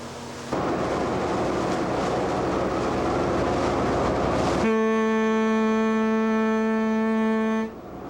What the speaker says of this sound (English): With a blast of her horn, the 110-foot schooner Thule bids farewell